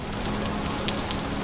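Rain pouring in a blocky survival game world, a constant dense hiss of drops with scattered brighter splashes, steady and fairly loud with nobody talking.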